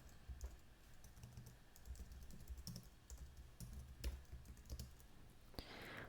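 Quiet, steady typing on a computer keyboard as a Linux firewall command is entered, with irregular key clicks and a few heavier keystrokes, heard alone.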